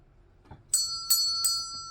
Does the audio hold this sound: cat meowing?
no